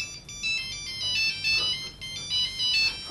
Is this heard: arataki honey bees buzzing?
no